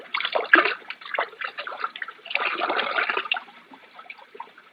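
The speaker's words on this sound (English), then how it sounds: "Pour most of it out, so that it will look as though we had even more to drink." Liquid sloshing and gurgling in bursts as whiskey is poured out of a half-full bottle, a close radio drama sound effect with splashy pulses and a longer pour midway.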